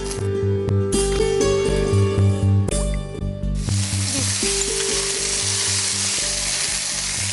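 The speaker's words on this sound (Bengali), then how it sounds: "শুকনো লঙ্কা একটু ফেটিয়ে দিই, একটু ছিঁড়ে না দিলে তো ফাটবে।" Dried red chillies and a bay leaf frying in oil, a loud close sizzle and crackle over a low steady tone, rising into a denser, brighter hiss partway through, with no speech.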